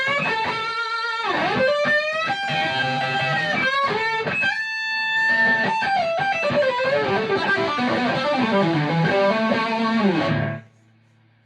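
Electric guitar played through a Blackstar Amped2 amplifier on its classic drive distortion setting, sustained overdriven notes and bends ringing continuously before cutting off abruptly near the end, with no talking.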